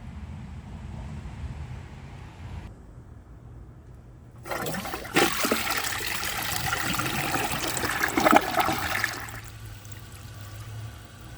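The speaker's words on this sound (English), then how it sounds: "So let's give this a flush and see how it does on tests." A 2007 Crane Elite toilet with a replacement flapper flushes: a click of the handle, then a loud swirling rush of water for several seconds, tapering into a trickle and refill hiss.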